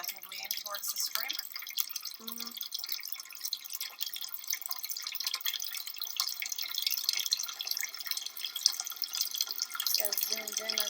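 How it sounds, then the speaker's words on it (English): Water pours in a thin stream from a hole in a plastic bottle, heard as a light, steady trickle and splash with dripping throughout, close and fairly faint. A few brief low tones rise now and then. "she's going to remove the tape here to let the water stream come out of the bottle"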